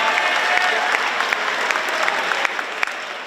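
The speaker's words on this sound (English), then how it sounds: "Let's hear a round of applause for Matthew Barboza" A school rally crowd applauds a student runner's record, dense continuous clapping with occasional sharp individual claps popping out near the front.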